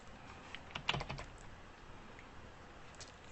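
Quiet clicks of fingers typing on a computer keyboard, a short cluster of keystrokes near the start, then sparse faint taps, ending with a louder knock.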